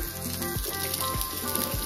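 Vegetables sizzling as they fry in a wok, a steady dense crackle with low periodic thumps, close and continuous with no talk.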